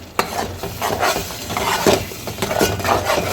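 Tomato puree sautés in a pan for a capsicum bhaji gravy, sizzling loudly while a spoon stirs and scrapes it in quick, uneven strokes, with light metallic clinks.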